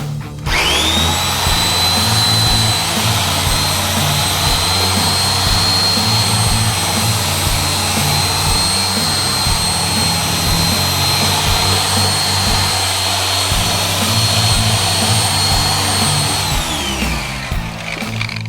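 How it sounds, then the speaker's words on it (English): A cyclo brush on a Porter Cable polisher scrubs car carpet, a loud, steady mechanical whine and rumbling drone that holds constant for about seventeen seconds before spinning down at the end, with no talking. "with a cyclo brush attached to a Porter cable. That way the machine does all the work."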